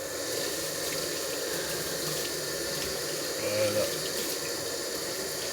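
Water from a kitchen tap pouring steadily onto salmon to rinse off excess salt, a continuous close splashing rush with a short word spoken over it.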